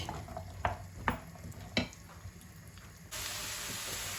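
Almonds fry in hot oil for sellou, a soft bubbling sizzle punctuated by a few spoon scrapes and clinks, then a steady brighter hiss takes over near the end, no one talking.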